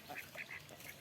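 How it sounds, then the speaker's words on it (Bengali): Two domestic ducks on a village pond give a few quick, faint quacks in rapid succession, distant and low over quiet outdoor background noise. "আর আমাদের হাঁস দুটাও এখানে পুকুরে দেখতে পাচ্ছি।"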